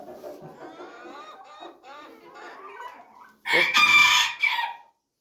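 Young farmyard roosters give softer, broken calls, then one loud, strained crow bursts out near the end and cuts off abruptly.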